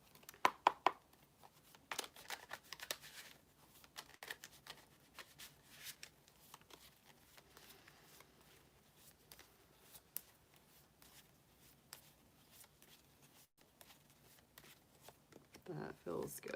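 Tarot cards are shuffled repeatedly, a soft riffling and flicking that comes in irregular bursts with quiet pauses between them.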